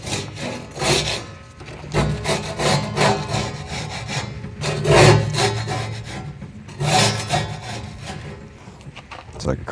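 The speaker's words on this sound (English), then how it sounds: "I'm gonna scrape down this back side right here" Repeated rasping strokes of a scraper working over the greasy back side of a Hasty Bake Legacy grill, near the mic and fairly loud, uneven in rhythm with brief pauses and occasional harder passes.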